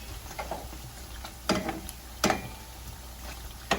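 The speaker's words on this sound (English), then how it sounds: "now I'm gonna turn it on the other side. So you have to fry each side" Caribbean fried beef tasso sizzles in a pan over medium heat, a low steady frying hiss broken by a few sharp scraping clatters as the pieces are flipped.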